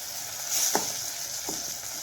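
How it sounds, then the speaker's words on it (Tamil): Onions and tomatoes sautéing in oil for a wedding-style sambar give a soft, steady sizzle close by, broken by a couple of brief stirring scrapes, with no talking. "வெங்காயம் தக்காளி வதங்கிடுச்சு"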